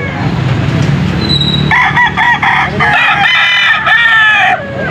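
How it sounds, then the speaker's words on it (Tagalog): Several chickens cluck and squawk close by at a pet market in Angeles, Pampanga, while a rooster crows loudly, its call rising and falling over the busy noise. "Pero may mga manok na dito."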